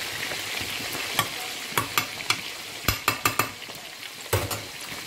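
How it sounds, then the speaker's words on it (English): Meat frying in hot oil while being stirred, with a steady sizzle broken by repeated sharp scrapes and clinks of a utensil against the pan, close and clear, with no voices. "Okay, fry the meat now. The meat is in oil."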